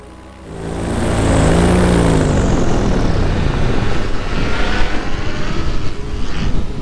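A propeller airplane at a fly-in passes close overhead, its engine drone swelling loudly and shifting in pitch, then holding a rough, steady roar.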